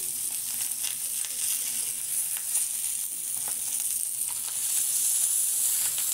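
Tilapia patoori wrapped in banana leaf frying in an oiled pan, giving a steady, close, moderately loud hiss and sizzle with faint crackles throughout and no talk.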